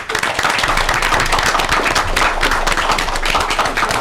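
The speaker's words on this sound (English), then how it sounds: "Doesn't like clapping." Many hands clap together at a city council meeting, a dense, steady patter of applause held close and loud for about four seconds with no talking.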